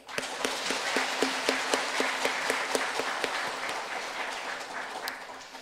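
Church congregation applauding during a Sunday worship service, a steady wash of many hands with a few sharp individual claps standing out at a regular, brisk rhythm, sustained and fairly loud throughout.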